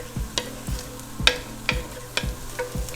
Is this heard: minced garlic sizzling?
yes